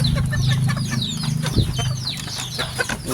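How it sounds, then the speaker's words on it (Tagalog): A brood of newly hatched black chicks, penned in a small enclosure, peeps constantly in rapid, overlapping high chirps, close and fairly loud, over a steady low background hum. "Ito mga bagong sisiw ko ngayon, guys."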